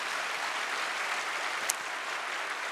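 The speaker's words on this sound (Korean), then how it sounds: "박수 한번 크게 부탁합니다." Applause rises from a church congregation at a Korean thanksgiving night testimony service, a steady wash of clapping that holds at moderate distance for the whole stretch.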